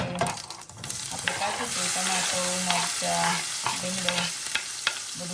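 Cumin, turmeric, raw tomato, chilies and curry leaves sizzling in a hot pan, a loud bubbling fry with repeated scrapes and knocks of a spoon stirring the mix.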